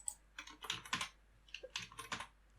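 Typing on a computer keyboard: quick, close clusters of light key clicks in short bursts, fairly quiet, with no talking.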